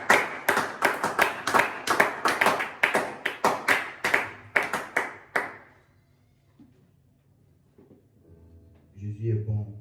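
A church congregation at a French-language worship service claps in a steady, loud rhythm for about five seconds, then the clapping stops and leaves near silence before a faint voice and music come in.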